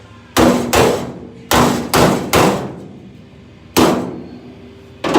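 Several heavy hammer strikes on metal, close and ringing, spaced unevenly with pauses between pairs of blows.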